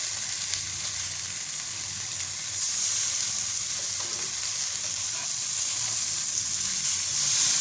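Fish frying in a pan with no oil gives a steady, bright sizzle that swells slightly partway through and carries on evenly throughout.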